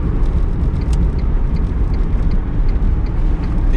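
An original Tesla Roadster being driven, with its electric motor whine blended into steady road and tire roar heard from inside the cabin, continuous and fairly loud.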